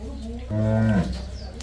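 A cow at a dairy farm in Jasrapur village, Ajnala, Amritsar district, gives one loud, close, sustained moo lasting about half a second, with quieter farmyard ambience around it and no talking.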